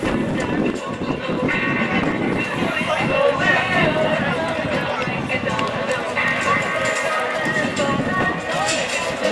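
Horse hooves pounding dirt during a rodeo barrel race, a rapid running clatter under a constant arena crowd babble and an announcer's voice throughout.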